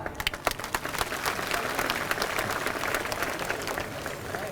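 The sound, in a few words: applause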